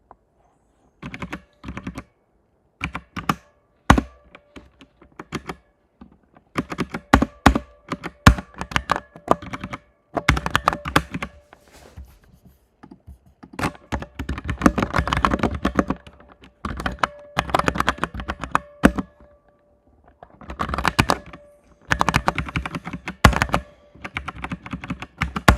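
Computer keyboard typing in irregular bursts of quick clicks and key thumps, close and fairly loud, pausing briefly between runs with nothing else heard.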